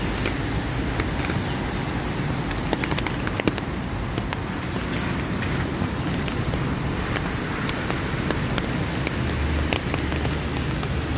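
Steady rain at night in Hong Kong, a dense, even hiss of drops striking surfaces, with scattered sharper ticks and a faint low rumble of distant traffic, no speech.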